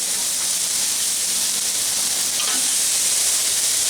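Onion smash burgers sizzle on a flat griddle just after flipping, a steady, close hiss of frying meat and onions that holds evenly throughout with no voices.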